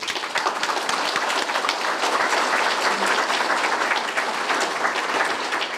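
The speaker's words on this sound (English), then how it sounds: "So let's give them a applause." Crowd at a Bradenton Kiwanis Farm City Week gathering claps in a thick, continuous burst of applause, evenly loud from start to finish with no talk over it.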